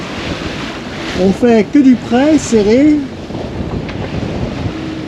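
Strong wind of about 30 knots buffeting a sailboat sailing close-hauled, a loud broadband roar with microphone buffeting under a short stretch of speech.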